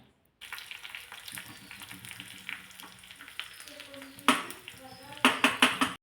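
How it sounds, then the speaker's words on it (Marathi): Mustard and cumin seeds are tempered in hot oil in a pan, giving a steady sizzle with popping crackles and sharp bursts of spattering that grow louder toward the end. "मोहरी चांगली तडतडून द्यायची आणि त्यानंतर मग जिरे घालायचे"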